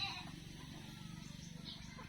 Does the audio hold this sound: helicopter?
no